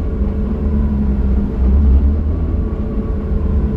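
Porsche 992 GT3 running: a steady low mechanical rumble with a faint hum from around the clutch, constant and close, with no talk.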